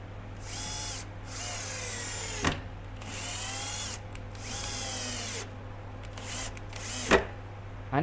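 A power drill drives screws into a wooden wall cabinet carcass, with several loud whirring bursts of one to two seconds each and sharp clicks and knocks between them.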